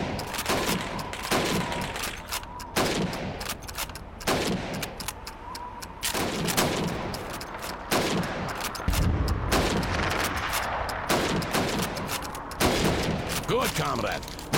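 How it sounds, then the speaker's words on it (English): Rifle shots fired at helmet targets on a training range in the game Call of Duty 2, a string of loud single cracks spaced a second or two apart with echoing tails, under occasional spoken instructions. "You have 15 seconds to shoot the helmets"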